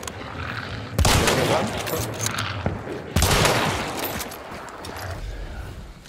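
Rapid bursts of gunfire in the video game Hunt: Showdown, two sharp volleys landing hard about a second and three seconds in, each trailing off into echoing rumble, with a voice briefly talking over the shots.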